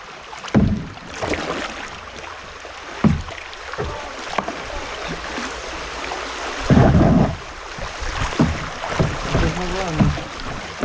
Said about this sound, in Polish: Bystrze.